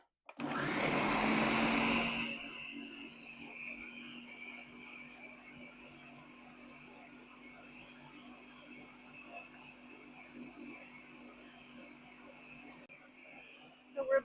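A kitchen appliance churns cream into butter with a loud whirring burst at the start, then settles into a steady, quieter motor drone with faint sloshing that runs throughout.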